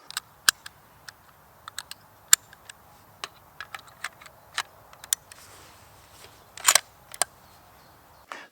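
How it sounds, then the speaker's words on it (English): A steel magazine clicks into a Sako 90 Peak rifle, with a close series of sharp, dry metallic clicks and snaps at an uneven pace and no talking. "that clips accurately and conveniently back in place with assuredness"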